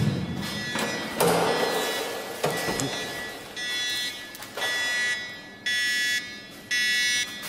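A radiation detector beeps steadily inside the Chernobyl Exclusion Zone, several sustained electronic tones repeating at regular intervals after some handling noise and thumps.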